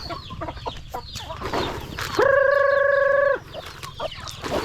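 Native chickens cluck and murmur in a busy farmyard, with one bird giving a sustained, steady call partway through over constant background activity.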